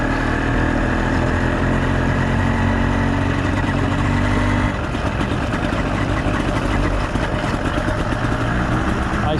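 An 85cc iron-sleeve motorized bicycle engine idles loud and close at night, a steady rattling two-stroke putter with a faint shift in pitch partway through, running alone.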